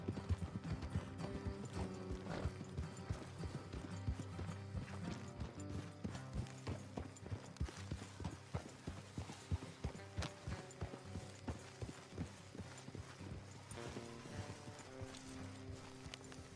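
Horse hooves clip-clop steadily and rhythmically in Red Dead Redemption 2, over a low rumbling background with music-like tones, continuing evenly throughout.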